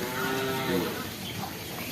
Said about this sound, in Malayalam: പശുവും കുട്ടികളാണ് വലുതും ചെറുതും എല്ലതും ഉണ്ട്